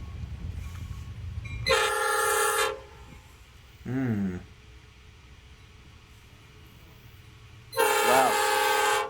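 A freight train horn blasts loud and close in two long chords with a shorter sounding between them, its multitone stacked notes ringing over a low rail rumble.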